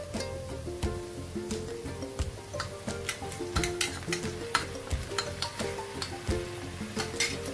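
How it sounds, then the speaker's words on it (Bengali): A spatula stirs lightly fried onion with ginger, garlic and green chili paste in a hot pan while cooking chicken bharta. Rhythmic scraping and tapping strokes repeat over a continuous close sizzle, with no talking. "এখন আমি এতে আদা, রসুন আর কাঁচা লঙ্কার পেস্ট দিয়ে খুব ভালোভাবে নেড়ে নেব"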